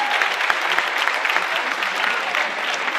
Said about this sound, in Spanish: Yo creo que bien vale la pena un aplauso para estos organizadores